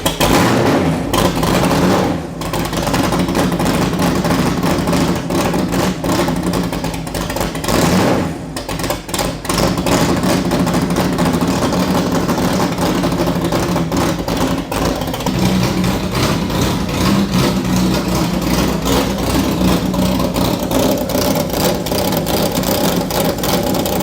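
A Ford GT40 engine being serviced for a misfire and spark arcing idles loudly and steadily with a dense low rumble, with small throttle blips and brief dips in level along the way.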